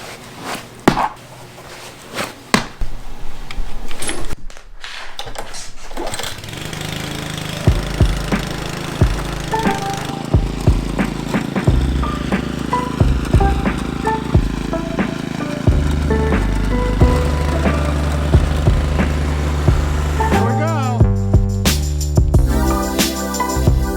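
A lawn mower works a steep slope in a fall yard cleanup, its engine running loud and close with uneven load changes, clattering and cutting noises throughout, no voices.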